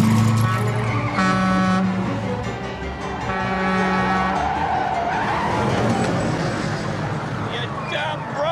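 A car on a one-way street brakes hard with long, loud tire squeals and skidding, followed by engine revving as it shifts into reverse, with voices speaking over parts of it.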